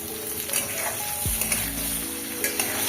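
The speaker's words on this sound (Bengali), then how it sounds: "এবার কড়াতে তেল দিয়ে তেলটা গরম হয়ে যাওয়ার পরে আলুগুলো ভাজার জন্য দিয়ে দিলাম" Potatoes fry in hot oil in a kadai, giving a steady broadband sizzle with soft crackles and a brief low thump partway through.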